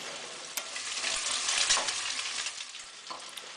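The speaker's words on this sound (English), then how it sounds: "why we want hot oil, because the eggs bubble up, giving them a light texture and a crispy taste" Eggs frying in hot oil in a wok for Shanghai street-style fried rice, a loud steady sizzle and bubbling close by, with a few sharp clinks and stirring scrapes over it.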